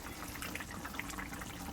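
Fish slipped into a pot of boiling potatoes for a village Bengali fish curry: soft bubbling and a brief watery splash, faint and close, with no talk.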